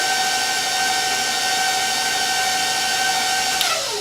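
Electric mixer working dry ingredients into chocolate chip cookie dough, a steady loud whirring motor hum that holds its pitch, then dips and winds down at the end.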